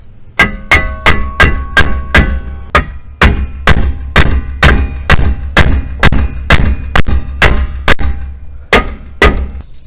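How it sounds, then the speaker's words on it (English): Repeated sharp metallic hammer taps on a front brake part of a 2016 Subaru Crosstrek during a brake job, about twenty close, loud strikes in a fairly steady rhythm with brief pauses, each ringing briefly. "Little hammer on the front here. Get it to pop in."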